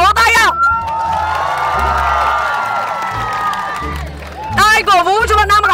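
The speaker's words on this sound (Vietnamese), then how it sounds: "Ai cổ vũ cho bạn nam mặc áo màu nâu thì vỗ tay ạ" Lively crowd at a matchmaking event in Bình Dương, cheering, shouting and whooping loudly with some clapping, excited voices rising in bursts at the start and end with a sustained roar between.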